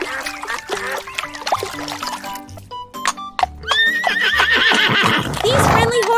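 A horse gives a loud, close whinny near the end, preceded by hoof clip-clops and other farm sounds, with a voice talking.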